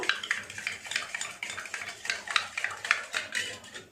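Glucon-D powder being stirred with cold water in a container, a quick rhythmic clinking and scraping of a spoon repeating steadily and close up.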